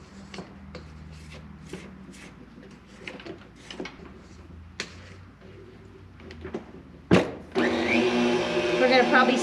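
An electric mixer whirs loudly into royal icing in a mixing bowl, starting abruptly near the end after quieter scraping and kitchen handling sounds.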